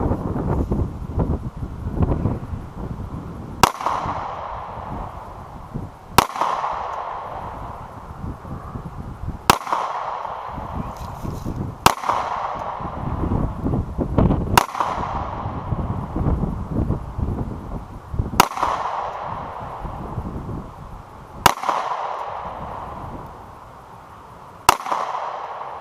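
Beretta PX4 Storm Compact pistol fired at a target about 20 feet away on an outdoor range, eight sharp, loud shots spaced a few seconds apart over constant wind noise.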